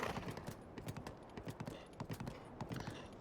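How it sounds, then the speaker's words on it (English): In the video game Breath of the Wild, a horse's hooves clip-clop in a quick, even rhythm, quiet and close, with no other sounds. "Come here, horsey."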